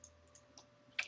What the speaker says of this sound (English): So let's go over here and type in some code.